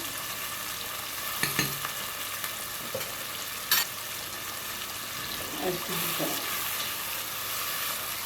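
Spices with garlic-ginger paste frying in a pan give a soft, continuous sizzle, broken by a few brief scrapes and clinks of stirring.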